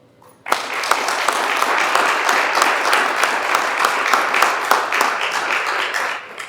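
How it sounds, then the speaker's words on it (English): An audience at an Indigenous Peoples' Day celebration in the East Ridge High School auditorium breaks into sudden applause for three special guests, a full, even clatter of many hands that holds steady for several seconds before fading at the end. "a special round of applause for our three special guests up front"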